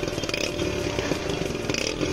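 A Hero Splendor Plus BS6 motorcycle with a new gold silencer runs close up, its exhaust putting out a steady, rapid, rhythmic thumping idle throughout, with no talking.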